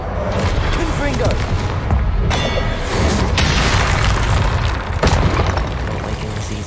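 A loud in-game blast from the Confringo spell in Warzone, with dense booming and gunfire-like bursts repeating throughout amid constant game noise, one sharp burst near the end.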